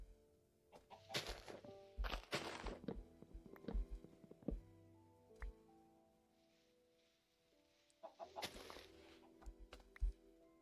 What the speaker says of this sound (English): Oh, hello, Mr. Chicken.